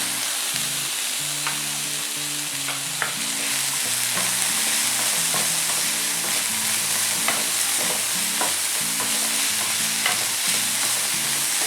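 Capsicum and carrot cooking in a pan for a chicken keema samosa filling, a loud steady sizzle with frequent stirring scrapes and occasional clicks of a utensil against the pan, no talking.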